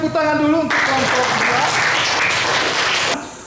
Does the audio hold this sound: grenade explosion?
no